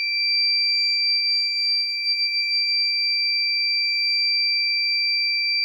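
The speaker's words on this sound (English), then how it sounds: "so the buzzer is on here." A steady high-pitched electronic buzzer tone from a transformer temperature monitor, triggered by over-temperature, sounds continuously and loudly, unbroken for several seconds with no other sounds.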